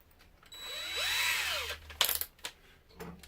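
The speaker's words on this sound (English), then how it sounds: "drill some pilot holes, switch over to our small drill bit" A power drill with a small bit drilling pilot holes whirs up and winds down in one short burst, followed by a few clattering knocks of tools handled nearby.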